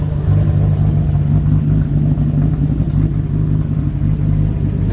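A turbocharged 2JZ-swapped Subaru BRZ idles and revs close by, giving a loud, deep, lumpy rumble with a steady low drone that holds throughout.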